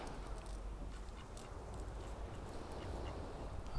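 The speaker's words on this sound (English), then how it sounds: "got a couple of ducks here" Ducks quacking close by on the shore at Slapton Ley and Sands, a few scattered calls over a steady low rumble of wind or outdoor noise.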